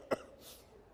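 A single short, sharp cough sounds close by, followed by quiet room tone. There is no talking.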